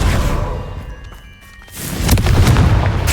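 A Confringo blasting spell going off in Hogwarts Legacy, loud booming bursts with a short quieter gap in between, close and forceful.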